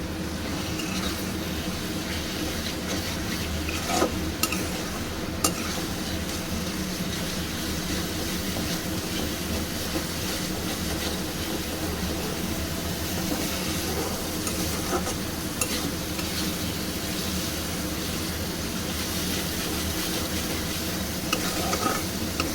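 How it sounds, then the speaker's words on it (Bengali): Spice paste with a splash of water being sautéed and stirred in a pan for a spicy fish curry, a continuous even sizzle with occasional clicks of the spoon against the pan, no talking. "এই যে খুব ভালো করে আমি মশলাটাকে কষিয়েছি"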